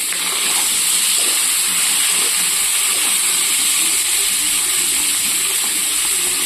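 Onions frying in hot oil in a pan for a Bengali potato curry give a loud, steady, close sizzling hiss that holds without pause throughout.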